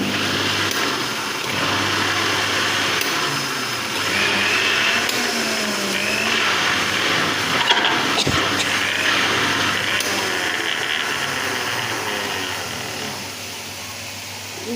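Spinach whirs in a blender as it is ground into a paste, a loud, continuous motor drone holding steady for the whole stretch, with no voices over it.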